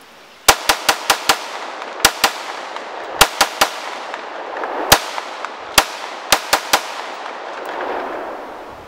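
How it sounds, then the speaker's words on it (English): Glock 19 handgun emptying a full magazine in rapid fire at an outdoor range: about seventeen sharp, loud reports in quick uneven bursts, each shot trailing a brief outdoor echo. "Glock 19, let's try it. Full mag, real quick."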